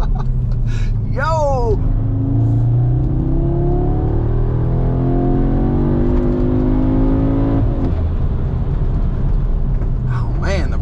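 An Audi S3 of the 8Y generation is driven hard around a small circuit, its engine note loud and close as it climbs and falls through the gears with a sharp shift midway. A voice exclaims briefly over it at the start and end.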